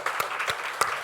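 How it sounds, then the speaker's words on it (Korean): Applause from a church congregation honoring its Sunday school teachers, a brief burst of scattered claps, fairly soft and distant, with no talk over it. "우리 여기 교사들을 큰 박수로 격려하겠습니다."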